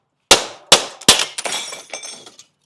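Glass pane breaking out of a window frame: three sharp crashing impacts in quick succession, each followed by tinkling shards, then a scatter of smaller clinks fading out, close and loud with no talking.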